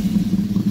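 A project car's engine runs loud and close with a steady, deep rumble that pulses slightly in brief throttle surges, with no voices over it.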